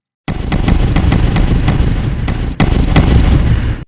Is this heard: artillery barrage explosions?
yes